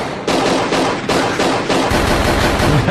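Rapid bursts of army gunfire from a film play loud and close, sustained machine-gun fire rattling almost continuously in dense repeated volleys.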